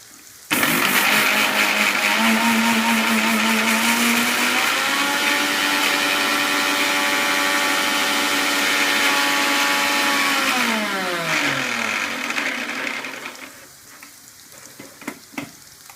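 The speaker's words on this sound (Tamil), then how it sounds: "அதை மிக்சியில் போட்டு" Mixer grinder blending ingredients for a dish with curd, a loud motor whine that starts abruptly, holds steady while the pitch shifts, then winds down and fades near the end, with no talking.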